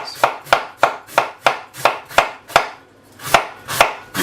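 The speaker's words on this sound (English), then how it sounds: "we're just going to slice it real thin in shavings" Knife slicing a quarter head of cabbage into thin shavings on a cutting board for coleslaw, about a dozen crisp chopping strokes in a steady rhythm with a short pause near the end, close and clear with no speech.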